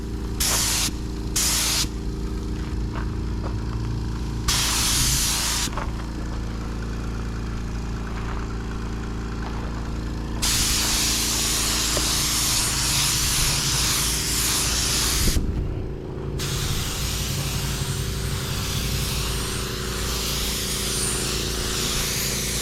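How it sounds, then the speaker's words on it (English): A spray gun applies a light tack coat of paint on a 2006 Porsche Cayenne, hissing loudly in repeated bursts of several seconds each over a constant low hum of a running compressor. "You want to make a tack coat."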